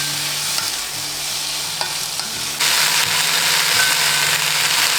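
Peanuts, onion and tomato fry in a pan for chutney, a close, loud steady sizzle that swells suddenly louder and brighter partway through, as if stirred, with no talk.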